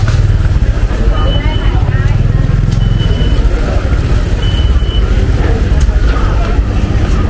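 Busy Bangkok street traffic near Platinum Mall and Pratunam Market, with motorcycles weaving along the edges, a steady loud rumble of engines that runs throughout, with people talking over it.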